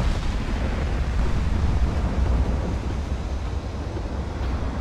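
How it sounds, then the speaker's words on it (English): Battleship gunfire and shell explosions in the naval game Ultimate Admiral: Dreadnoughts blend into a continuous heavy rumbling roar with surging booms, loud and dense throughout, with no voices. "You keep shooting at the battleship."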